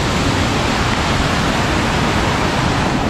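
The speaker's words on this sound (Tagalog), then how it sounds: "May falls dito guys oh. Yan, falls, mini falls." A small waterfall roars as a dense, steady rush of falling water, close and loud, constant from start to finish with no voices over it.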